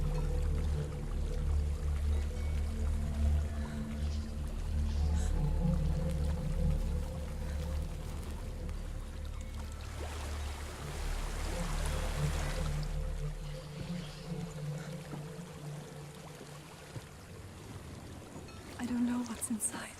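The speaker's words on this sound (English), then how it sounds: "There's a waterfall." Waterfall in the video game Hellblade: Senua's Sacrifice, a steady rushing wash of water that swells for a few seconds, under low droning ambience and soft voices.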